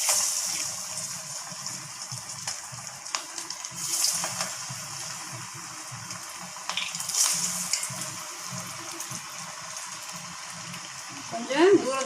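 Masala vadai frying in hot oil, a steady soft sizzle and bubbling running throughout with a brief louder splash near the end, voices faintly in the background.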